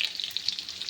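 Garlic frying in oil in a pan for a potato and fenugreek dish, a soft steady crackling sizzle with faint bubbling pops, brief and close.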